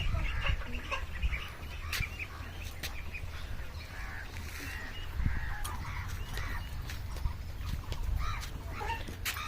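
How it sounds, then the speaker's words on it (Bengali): Ducks on a farm quack and chatter steadily in a busy flock, with scattered honks and calls over a low, constant background rumble. "এখানে কত হাঁস আছে দেখো"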